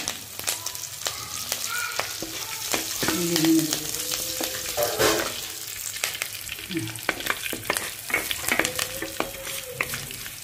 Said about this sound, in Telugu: ఇదిగోండి ఆవాలు, జీలకర్ర, ఇదిగో కరివేపాకండి